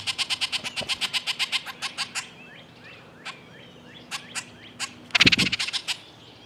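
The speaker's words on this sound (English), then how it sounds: "This is what they sound like when another Oriole is getting too close." Orioles at a grape jelly feeder give territorial calls: a fast, evenly spaced series of sharp chattering notes, then scattered whistles and a loud harsh burst of chatter, close and clear.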